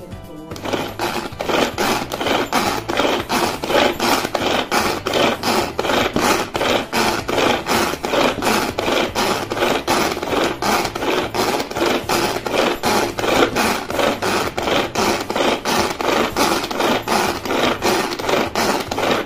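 A manual pull-cord chopper works through onion with a fast, regular series of whirring, rasping strokes, each pull a short burst, repeated evenly and close by without speech.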